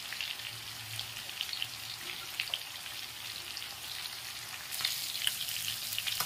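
Fish frying in hot oil in a pan, a steady close crackling sizzle with bursts of popping that grow louder toward the end, with no talk over it.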